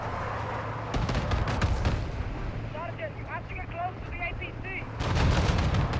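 Heavy gunfire in the Call of Duty Modern Warfare 2 campaign, with sharp bursts of shots early, a lull filled with rumble and distant chatter, then a loud volley of rapid shots near the end.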